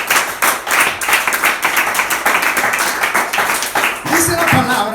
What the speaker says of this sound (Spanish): Vamos a aplaudirlo porque este es Jesús.